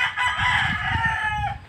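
A fighting rooster crows once, a loud, drawn-out call with a bright, strained tone that lasts over a second, with faint low background noise beneath it.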